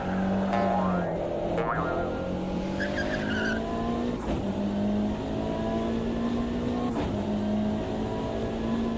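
A sim racing car weaving to warm its tyres: a steady engine drone whose pitch rises and falls, with occasional tyre squeal and sharp clicks, loud and close throughout.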